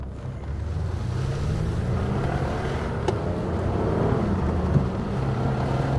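A Porsche 911 SC with a 180 bhp engine is driven on the road, giving a steady, loud, continuous engine drone mixed with rushing wind noise throughout, with no talking.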